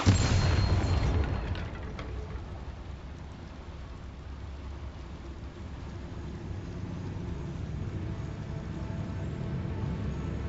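A Bombarda blasting spell explodes in the Hogwarts video game: a loud booming burst at the start, then a rumbling, crackling tail that stays steady and noisy to the end with no voices.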